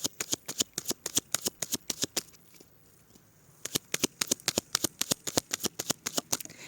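Tarot deck being cut and riffle-shuffled by hand, a rapid series of sharp papery card snaps in two bursts separated by a brief quiet pause, close and crisp.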